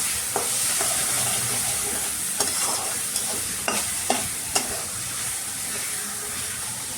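Spoon stirring coconut chicken curry in a pot, with a series of distinct scraping strokes over a steady sizzling hiss, close and moderately loud, no voices.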